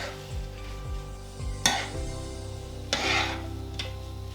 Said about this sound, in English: I'd let this cook for about a minute and just mix the sweet corn and sesame seeds